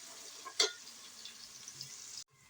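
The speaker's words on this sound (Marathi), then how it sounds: "त्याला चांगला लसूण फ्राय होईपर्यंत भाजायचा आहे" Garlic frying in hot oil after mustard seeds have crackled, a soft continuous sizzle with one sharp clink of a spoon early on, stopping abruptly near the end.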